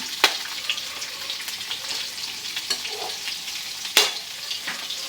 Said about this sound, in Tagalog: i-fry muna natin yung ating hipon